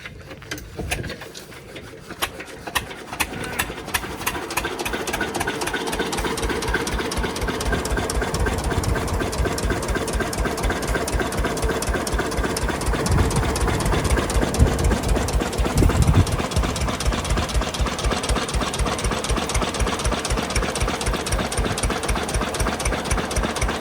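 A combine harvester engine idles steadily and loudly throughout, with a rapid, even mechanical chugging that barely changes.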